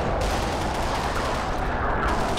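Gunfire from the video game Black Mesa: sustained rapid automatic fire and overlapping shots form a loud, unbroken barrage from start to finish.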